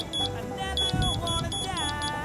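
An electronic level device, used while building a cedar fence, emits a regular series of short, evenly spaced high beeps at close range while someone speaks over it.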